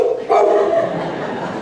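A man imitates a dog with a single loud, close bark-like yelp in a hospital setting, followed by a fading hoarse tail under light background noise.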